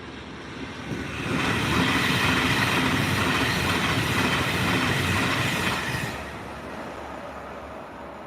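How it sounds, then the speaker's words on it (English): An Avanti West Coast Pendolino train rushes past up close, its roar swelling quickly, holding loud for several seconds with rail clatter, then fading away. "here comes an Avanti West Coast Pendolino"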